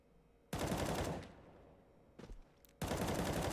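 Counter-Strike gunfire in a match: a sustained automatic burst, a brief pause with a couple of quieter shots, then another loud continuous volley, all close and dominant.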